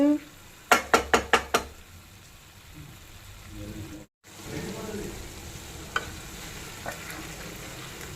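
Onions frying in a pan while mutton brain fry is being cooked, a few sharp clatters of stirring up front, then a low steady sizzle running underneath.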